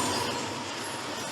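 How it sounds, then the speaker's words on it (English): A train rumbles steadily at a railroad crossing where gates block the intersection, a broad continuous roar with low wheel noise that stays fairly loud throughout the short stretch and carries no voices. "A train is coming."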